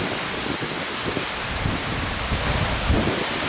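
Storm wind and rain sweep over the sea near a high-speed passenger ferry on the Rach Gia to Phu Quoc route, a steady roaring wash of noise with low gusty buffeting and no voices.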